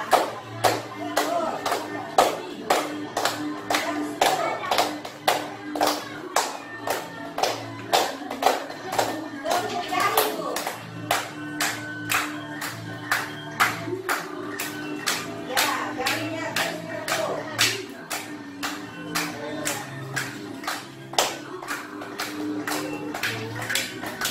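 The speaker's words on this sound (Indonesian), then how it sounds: "tepuk tangan" A group claps hands in rhythmic, sharp bursts during an exercise session for people with disabilities and the elderly, regular claps repeating steadily while an instructor talks over them.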